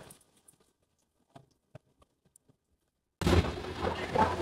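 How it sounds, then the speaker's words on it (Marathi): Rain is heard first as sparse, scattered drops ticking and pattering in near quiet, then a dense, loud rush of heavy rainfall that continues to the end. "पाऊस तर भरपूर चालू आहे"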